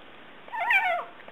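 A small kitten lets out a single rising and falling mew, fairly close and clear over a quiet background, during or right after being fed through a tube.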